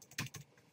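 A couple of soft, close computer keyboard taps land in quick succession, faint and with no voice over them.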